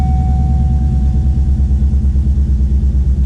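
A cammed 5.3 LS V8 in a Chevrolet Silverado struggles to hold idle, its loud, lumpy exhaust loping in a steady uneven rhythm close by, with no talking over it.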